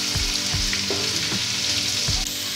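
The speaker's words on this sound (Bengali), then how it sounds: "রসুন ভাজা হয়ে গেছে" Crushed garlic frying in oil in a pan for a taro-leaf dish, heard as a loud continuous close sizzle with a few sharp stirring knocks.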